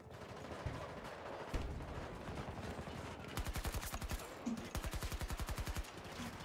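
Machine-gun fire rattles in Battlefield 2042, repeated rapid bursts, some close and crisp, others more distant, with faint voices talking underneath.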